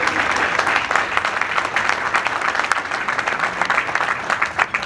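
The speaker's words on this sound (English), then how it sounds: "I want to say a special round of applause for our Master of Ceremonies" An audience at a Mississauga Ward 11 campaign event gives the master of ceremonies a sustained round of applause, dense steady clapping close by with no one speaking over it.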